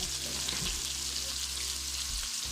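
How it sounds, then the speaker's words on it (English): Fresh cut ginger is added to a hot pan for Jamaican steamed cabbage and sizzles steadily, a continuous close frying hiss with faint stirring bumps and a voice faintly in the background. "I will put in the ginger, some fresh cut ginger."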